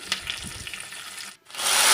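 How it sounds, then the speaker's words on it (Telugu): Tempering of crushed garlic, dried chillies, curry leaves, cumin and mustard seeds in oil, a soft crackling fry with light clatter, briefly dipping before a loud, bright sizzle swells. "దంచిన వెల్లుల్లి ఎండుమిర్చి కరివేపాకు జీలకర్ర ఆవాలు ఇవి మనకి పోప్కి కావాలండి పోపు వేసుకుందాం ఆయిల్ వేసుకుని అవన్నీ వేసేసుకుని వేయించుకోవాలి"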